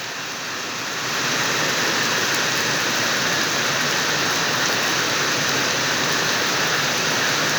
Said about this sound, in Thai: ฝนตกอีกเนาะมื้อนี้กับ ตกคุ้มมือเลยพี่น้อง